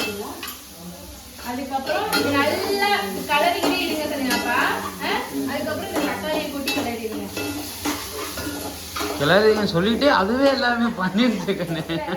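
Steady sizzling of fennel seeds and shallots tempering in hot oil for mutton chukka, with a utensil stirring against a pan, heard beneath nearly continuous conversation.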